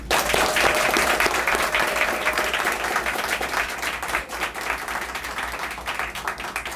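Audience applause at a ribbon cutting ceremony for an Animal Village expansion, a steady wash of many hands clapping that holds loud and continuous, with faint voices mixed in underneath.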